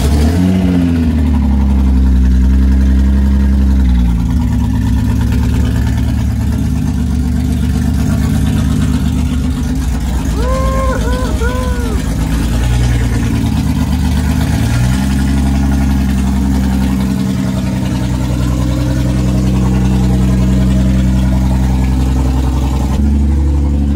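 Toyota 2GR V6 engine in an MR2, started for the first time with no exhaust fitted, running loud and raw with a deep throbbing idle, rising and falling revs and a few brief whistling squeals midway.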